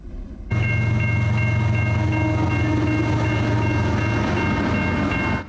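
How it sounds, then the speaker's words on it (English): A train rolls steadily past the Wilkes Avenue and Elmhurst Road crossing in Winnipeg, its loud, continuous low rumble and wheel noise starting abruptly and holding for several seconds, with tonal horn or crossing-bell lines above it. "Trains are a common sight here at Wilkes Avenue and Elmhurst Road."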